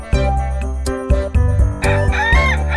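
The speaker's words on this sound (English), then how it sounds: "Rooster." A rooster crows loudly and close, giving a long, strained cock-a-doodle-doo in several rising and falling segments, with brief clucking-like breaks between the calls.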